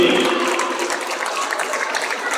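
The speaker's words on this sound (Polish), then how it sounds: "Wielkie brawa." Applause at a Beksa Cup trophy ceremony in Lublin, a brief steady patter of clapping from a gathered audience, near and moderately loud.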